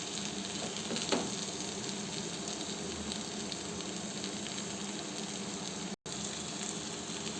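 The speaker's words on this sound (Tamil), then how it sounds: "இப்போ மசாலா பொருட்களெல்லாம் பாவக்காயில் வந்து ஆட் ஆகிற மாதிரி நல்லா கிளறி விட்டுக்கலாம்" A bitter gourd stir-fry with masala sizzles steadily in a pan, a faint, even hiss with occasional soft stirring scrapes and one brief dropout.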